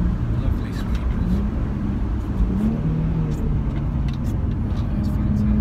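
A Nissan 350Z fitted with Tein Monosport suspension hums steadily through sweeping corners, its engine a constant low drone with road rumble beneath someone talking quietly throughout.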